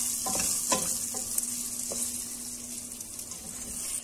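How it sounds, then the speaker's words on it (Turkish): Rice sizzles steadily in a hot pan with pepper paste and chili flakes, with a few soft stirring scrapes and clicks over the constant frying hiss, as a base for sour spinach soup. "Salçamızla kavuralım."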